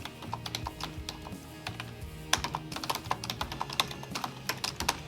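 Rapid clicking of keys on a keyboard used with a Wimaxit M1562C portable monitor, typed in uneven bursts close by, fairly quiet, with no talking.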